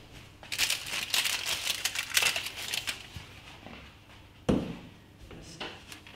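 Baking paper being pulled away from a loaf of no-knead bread baked in a Tupperware Ultra pot, giving close, continuous crinkling and crumpling for several seconds, then a sharper knock near the end.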